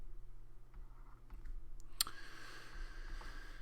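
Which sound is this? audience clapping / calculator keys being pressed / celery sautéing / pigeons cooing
calculator keys being pressed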